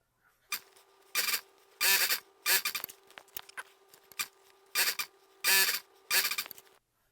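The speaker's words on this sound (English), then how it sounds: "And now I can sew these 3 rows together." Sewing machine stitching quilt block rows together for a baby blanket, close by, in several short whirring bursts separated by brief pauses and faint handling noises.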